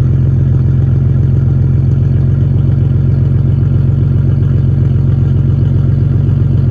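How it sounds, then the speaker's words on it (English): A turbocharged Lexus IS300 with a muffler delete and a 4-inch chrome tip idles up close, giving a loud, steady, throbbing exhaust rumble with no voices. "Muffler delete. No muffler."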